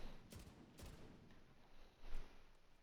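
Gunfire in the shooter game Tom Clancy's The Division 2 during a PvP match: three separate shots crack out, widely spaced against a faint background, the last one slightly louder.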